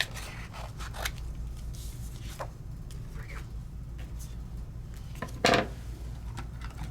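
Scissors cut out a paper star, making a series of close, light snips and paper rustles over a steady background hum, with one louder crisp cut near the end.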